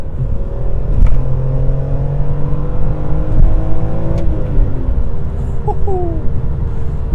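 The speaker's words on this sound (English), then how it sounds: "This thing wants to go to redline every single time." A BMW E46 M3 engine revs hard and close, climbing toward redline in repeated surges, with a loud rumbling exhaust and a brief gear change.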